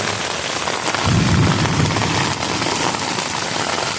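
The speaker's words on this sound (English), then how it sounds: "It is storming." Dense, steady rain hisses loudly and close on a hiking trail in Kentucky's Red River Gorge, with a low rumbling swell early on, no voices.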